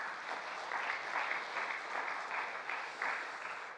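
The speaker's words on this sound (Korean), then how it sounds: "우리 박수 한번 치겠습니다" A church congregation applauds together, soft and somewhat distant, with steady dense clapping carrying through the whole stretch.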